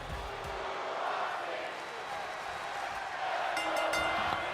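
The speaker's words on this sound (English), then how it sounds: "You can hear the crowd here in this great city chanting, "Let's go, Roxy."" A video game wrestling arena crowd in WWE 2K25 roars and chants in a steady wash of noise, swelling louder toward the end, with a commentator's voice talking over it.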